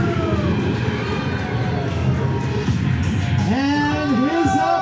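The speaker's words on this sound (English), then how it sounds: "the crowd is already chanting for the West Coast champion" Wrestling crowd chanting for West Coast champion Prince Gabriel, a loud, continuous mass of cheering voices with a few individual shouts rising near the end, close and sustained.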